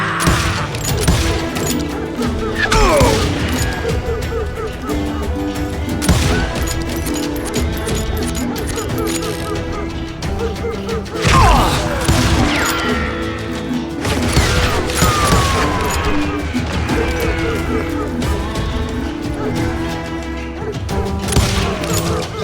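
A Wild West shootout in Call of Juarez: Gunslinger crackles with repeated loud gunshots and impacts in irregular bursts, mixed with background score and shouted voices.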